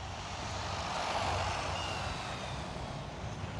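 A Rlaarlo 1/14 RC buggy on its stock battery runs at full throttle, giving a steady, dense whine and roar that holds at one level for several seconds, close and loud, with no talking.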